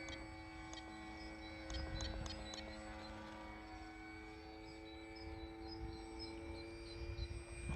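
A Sig Kadet model airplane cruises at just under half throttle on its maiden flight, a steady, moderately distant propeller drone holding an even pitch with a faint whine, continuous and alone throughout.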